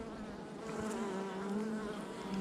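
A honeybee colony in an opened hive gives off a continuous, even buzz that fills the background, moderately quiet and close, with individual bees droning slightly louder as they pass nearby.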